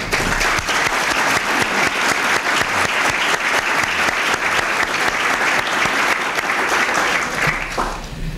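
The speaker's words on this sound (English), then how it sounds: "And I think they all deserve a round of applause" Applause from a luncheon audience at the Harry Truman Centennial, honoring former Truman White House staff, sustained and loud, a dense steady roar of clapping that tapers slightly at the end.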